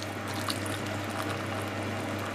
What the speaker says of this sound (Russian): Сейчас залью его кипятком.